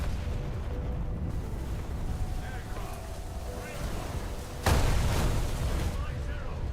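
Artillery bombs bursting around a heavily armored tank in a video game, a low rumbling engine bed punctuated by one sharp loud explosion partway through, followed by lingering noise.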